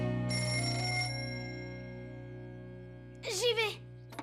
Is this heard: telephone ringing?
yes